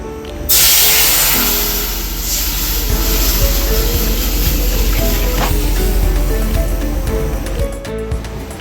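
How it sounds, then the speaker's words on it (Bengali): Milk poured into a hot kadai for laccha sewai, a sudden loud sizzling hiss that starts abruptly and continues steadily, fading slightly toward the end. "এই দুধটা আমি ঢেলে দেব"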